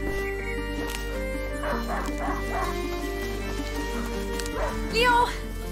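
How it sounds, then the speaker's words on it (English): A hunting dog barks in the video game A Plague Tale: Innocence, several sharp barks and yips spread across the clip over a steady droning score and game ambience. "A hunting dog!"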